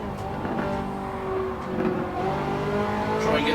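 A race car engine in the Gran Turismo 7 video game revs and accelerates continuously up a hill, loud and sustained with shifting engine tones, while a commentator talks over it.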